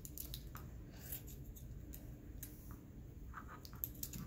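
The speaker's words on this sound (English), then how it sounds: "And then you're gonna cut." Scissors snip through ribbon loops for a bow, giving several quiet, crisp cuts at an uneven pace over faint background noise.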